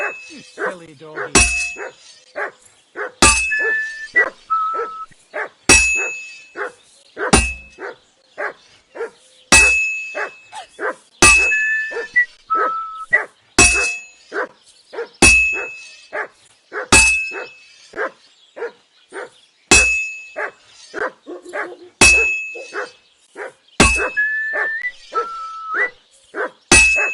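Dog barking in Kingdom Come Deliverance 2: repeated sharp barks in a steady rhythm, close and loud, mixed with metallic clinks and game chimes, and a voice talks between them.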